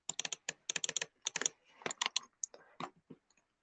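Rapid bursts of computer keyboard typing mixed with mouse clicks at a desk, close and crisp, in uneven clusters of keystrokes with brief pauses, no talking.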